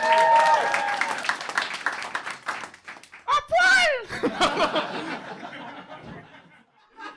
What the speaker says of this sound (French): On peut applaudir Merwan.